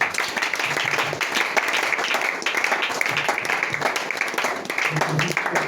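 A congregation at a French-speaking church service applauds for Jesus, sustained dense clapping from a crowd with voices and cheering mixed in throughout.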